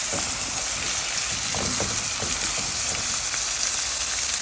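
Chopped onions sizzle loudly and continuously in hot oil with whole spices for goat liver bhuna, a dense close frying hiss with faint stirring taps underneath.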